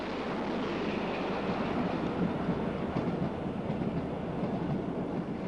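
A Great Western King class express steam locomotive hauling the Bristolian on a Friday with a heavier train, heard as a continuous broadband rumble and rush of rolling stock with faint rhythmic wheel clatter and some wind buffeting.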